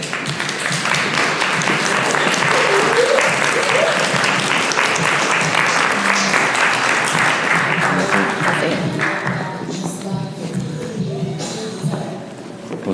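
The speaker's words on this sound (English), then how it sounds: "you guys just please clap and give Jalen Too Tall Woodson a warm welco" An interview audience applauds loudly and steadily to welcome a guest, with the dense clapping tapering off near the end.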